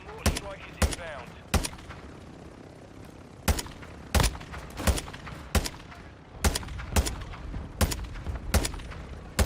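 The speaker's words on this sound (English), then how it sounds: "Our mortar strike is inbound." Repeated sharp blasts and booms from a mortar strike in Call of Duty: Modern Warfare II, over a dozen irregular impacts spread across the stretch, loud and close, with gunfire mixed in and a player's voice talking briefly.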